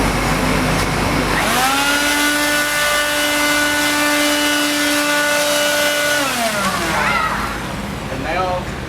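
A Skil blower runs loud and steady with a tonal whine, then winds down near the end; the Skil is being compared with a Makita DUB182Z 18V cordless blower.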